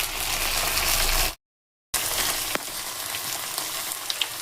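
Ground dried chilli and tomato paste fries in hot oil, a close, steady sizzle that cuts out briefly, then resumes softer with a few sharp pops and spatters.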